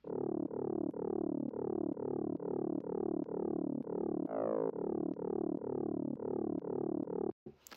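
A punchy, bright 80s FM synth bass from Logic plays a repeating rhythmic pattern of short plucked notes, each with a sharp attack and quick decay.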